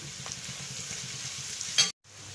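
Curry leaves and green chilies frying in oil for Kerala-style beef mappas, a close, steady low sizzle with light stirring, a brief louder crackle, then a sharp cut to silence before the frying resumes.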